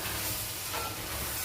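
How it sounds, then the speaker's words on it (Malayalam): Chicken pieces frying in a pan with pepper added: a steady, soft, continuous sizzle and hiss, faint and close, with no voices. "ശരിക്കും ഫ്രൈ ആയി വരട്ടി"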